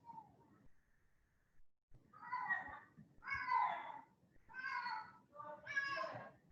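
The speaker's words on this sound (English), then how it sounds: "Something happened to my cat. He's making strange noises." A male cat making strange, drawn-out yowling noises, several loud wavering cries in a row after quieter murmurs, close by and indoors.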